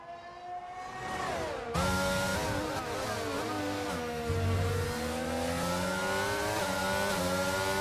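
A McLaren race car's engine revs and shifts through gears at the Brazilian Grand Prix in a PlayStation racing game, rising and falling in pitch steadily at close range, with no talking.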